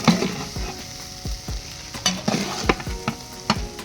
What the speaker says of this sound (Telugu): రైస్ బాగా తిప్పుకున్నాక 100 గ్రాముల గరం మసాలా వేసుకొని అంతా బాగా కలిసేలా తిప్పుకుందామకు.